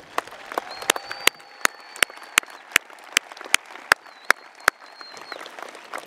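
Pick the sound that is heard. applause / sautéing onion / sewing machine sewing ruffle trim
applause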